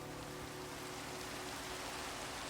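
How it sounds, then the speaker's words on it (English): Steady, dense rainfall from the video game Minecraft hisses evenly throughout, with no speech over it. "as you may hear, it has started raining once again"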